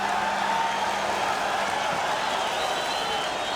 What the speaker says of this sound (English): The crowd loves it here at the Forum.